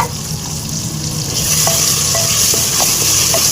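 Potato pieces, ginger and garlic frying and being stirred in a hot pan for dal khichdi, a steady close sizzle with soft scraping stir sounds and a few light clinks.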